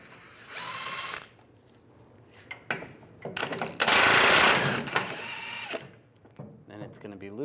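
Ratchet with a 21mm socket loosening the bumper bolts on a 2007-2013 Chevrolet Silverado 1500, rapid clicking bursts in short runs, close and loud, with someone talking in between.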